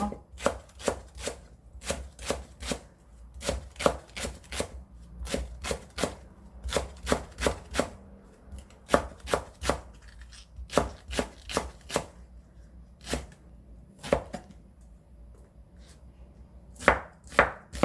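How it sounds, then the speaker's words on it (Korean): A knife slices green onions thinly on the diagonal against a cutting board, giving crisp, evenly spaced chopping knocks in quick bursts with short pauses between them, close and clear with no talking. "대파는 시원하게 위쪽에 올려줄 거니까 얄팍하고 어슷하게 썰어주세요"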